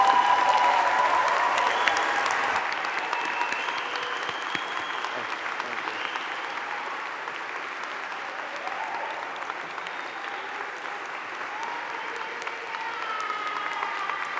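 Graduation ceremony crowd applauding the graduates, a dense, sustained wash of clapping from a large hall audience, steady and loud throughout, with a slight drop in intensity after the first couple of seconds and faint crowd noise beneath.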